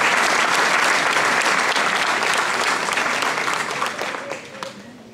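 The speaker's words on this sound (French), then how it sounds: "Mais on peut l'applaudir pour ses 2 médailles du championnat de France." A crowd at a mayor's New Year ceremony in Vigneux-sur-Seine applauds a medal-winning athlete, loud dense clapping that holds steady and then tapers off toward the end, with a few voices beneath.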